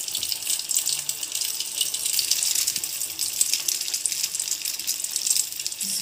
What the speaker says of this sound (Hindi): तेल हमारा अच्छे से गर्म हो गया है, मैं इसमें एक डाल के पहले देखती हूँ।